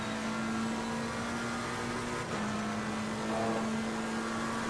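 The engine of a McLaren 720S race car in Assetto Corsa Competizione at Imola drones steadily with a constant high pitch, briefly dipping midway before holding again, loud and close.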